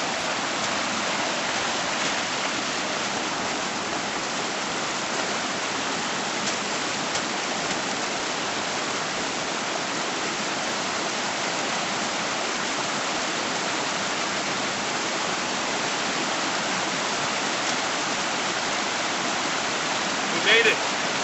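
Loud, steady rush of river water fills the whole stretch, a constant broadband roar with no breaks, close by as someone prepares to cross the river on foot.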